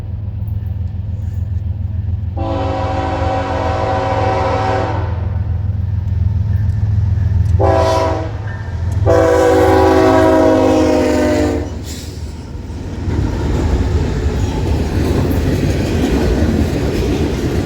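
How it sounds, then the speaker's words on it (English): A freight train led by three GE Evolution Series diesel locomotives rumbles steadily nearby, sounding loud horn blasts: one long, a short one, then another long blast, with the diesel rumble continuing after the horn stops. "In charge of tonight's train will be a trio of GE's Evolution Series diesels."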